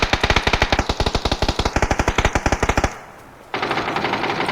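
Rapid automatic gunfire from a PUBG match, a loud close burst of about thirty evenly spaced shots over nearly three seconds, a brief lull, then a dense roar of continued firing resuming.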